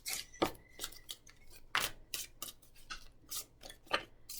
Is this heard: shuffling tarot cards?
yes